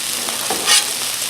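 Fried rice and egg being mixed on a Blackstone griddle turned down to low, a soft sizzle with scraping spatula strokes and one brighter scrape, close and without talk.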